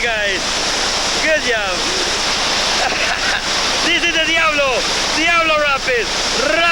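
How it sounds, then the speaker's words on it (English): Whitewater rapids on the Reventazon River in Costa Rica, the Diablo Rapids, roar as a steady loud rush while several voices shout and talk over the churning water throughout. "This is the Diablo Rapids."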